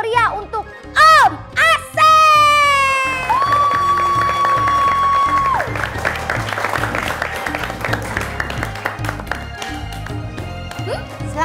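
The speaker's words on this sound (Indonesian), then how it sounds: "peserta pertama kita berikan tepuk untuk Om" An audience claps to welcome the first participant at the opening of a Quran memorization competition. Children's voices, talk and a sustained tone come first, and the dense clapping builds afterwards.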